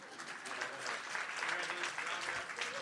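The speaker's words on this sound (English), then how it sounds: "let's give it a round of applause to the two master of wines" An audience at a wine business event claps for two Masters of Wine, a sustained round of dense applause from a crowd that holds steady for the whole stretch.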